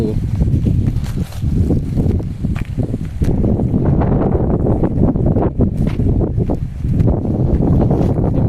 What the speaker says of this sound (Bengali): আজকে খুব প্রচণ্ড হাওয়া বইছে